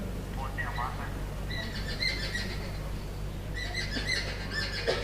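A group of seven jungle babblers chattering noisily in overlapping harsh, squeaky calls, steady and continuous over a low background hum.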